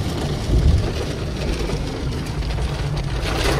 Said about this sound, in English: Much rain.